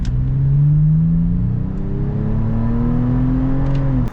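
A 2022 Toyota 4Runner TRD Pro Outback Edition accelerates with a steady, loud engine drone whose pitch climbs smoothly for about four seconds, then cuts off abruptly, recorded close with no talking.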